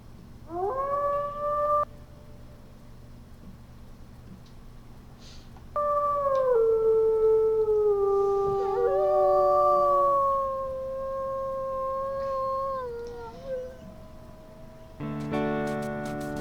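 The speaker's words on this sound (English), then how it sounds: "Little howl." Wolf howls from a wolf character in the Wolf Quest: Anniversary Edition video game, one short rising howl followed by a longer sustained one that wavers and slowly falls, loud and close over a low game ambience, ending in a burst of game music.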